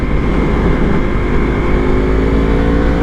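A Yamaha MT-10 motorcycle engine drones loud and close at steady high revs before a wheelie, a constant roar with no speech.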